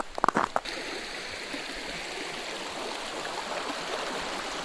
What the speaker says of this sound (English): Found a creek.